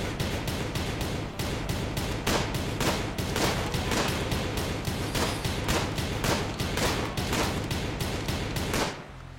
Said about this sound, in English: We just lay down a military barrage of fire.